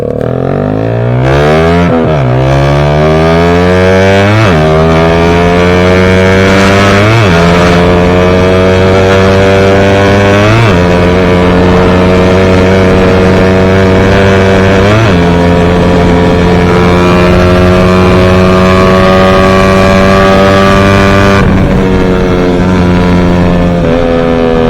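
A loud Suzuki Raider 150 first-generation motorcycle engine accelerates through several gears, each pitch climb dropping at a shift before rising again, close and continuous.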